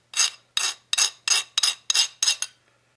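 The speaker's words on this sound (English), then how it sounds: "So I'm going to take my file," A hand file scraping a machining burr off a Triumph Spitfire 1500 differential part, eight close, evenly spaced rasping strokes in a quiet workshop.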